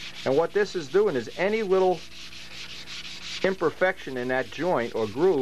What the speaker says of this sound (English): I want to just very carefully run a sanding block or piece of sandpaper up on there